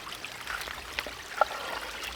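Water trickles and flows past a dam of big rocks and a flat rock into the supply pipe of a ram pump in a sandy creek, a soft, steady, fairly faint babble with a few brief splashy accents.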